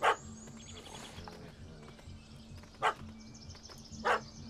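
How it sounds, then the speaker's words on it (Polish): A dog barks in The Witcher 3: Hearts of Stone, three sharp, separate barks spaced a second or more apart, over quiet game ambience and a low steady hum. "Jest i pies"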